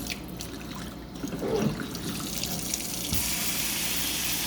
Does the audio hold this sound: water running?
yes